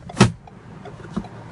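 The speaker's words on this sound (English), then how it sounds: "Open the driver's door" A 2015 Ford Edge driver's door opens with a sharp, close latch clunk near the start, followed by a softer thud about a second later over low background noise.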